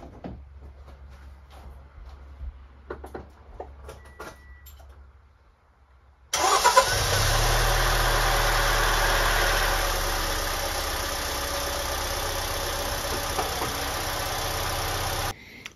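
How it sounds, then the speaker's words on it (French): A Toyota Auris engine, just after an oil change, cranks and catches abruptly after a few quiet seconds of faint handling noises, then settles into a steady, loud idle with a persistent high whine, heard from outside the car. "Bon, du coup, je vais démarrer. Premier démarrage."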